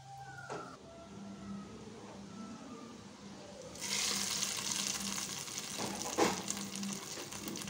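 Hot ghee tempering is poured into venpongal and sizzles up suddenly over quieter kitchen clatter, a loud frying hiss that keeps going with one sharper crackle near the end.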